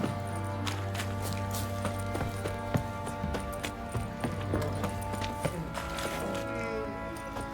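Horse hooves clip-clop steadily in The Witcher 3, close and fairly regular, over a layered backdrop of game music and ambience.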